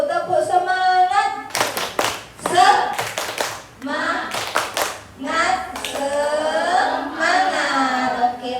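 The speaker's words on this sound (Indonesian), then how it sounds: "Ayo sama-sama Bapak Ibu tepuk semangat" A group of adults claps a rhythmic spirit-clapping icebreaker at a school training session, sharp bursts of hand claps in patterned sets alternating with loud chanted and spoken voices.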